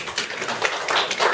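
A wedding audience applauds a couple, a close group of individual claps rising and falling in uneven bursts.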